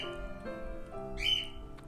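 A pet bird in a home lets out a loud squawk and whistle near the end, over softer chirps and background noise; no talking.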